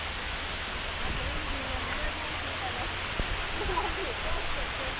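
Sai Yok Noi waterfall roars as a constant, dense wash of falling water close by, with people's voices faintly in the background.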